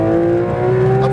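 A Porsche 992 GT3 RS engine revs up under acceleration on a track, its pitch climbing steadily in a loud, close, continuous whine.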